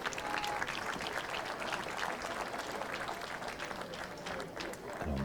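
Audience applauding at a pétanque match semifinal in a national tournament, a dense, steady wash of clapping from a crowd that continues for several seconds, with voices mixed in.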